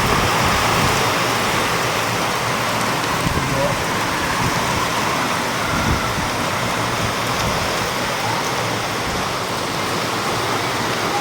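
Heavy village rain drums down in a constant roaring wash, with water running along the road and faint background sounds beneath the steady downpour.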